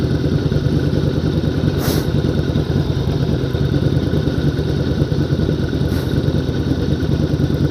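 A 600-sized Yamaha cruiser motorcycle engine rumbles in a steady low drone, close and continuous, with a faint brief whoosh passing twice in the background.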